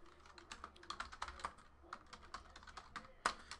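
Rapid typing on a computer keyboard while entering sports card hits after a 2018 Leaf Valiant football box break, steady bursts of close keystrokes with no talking.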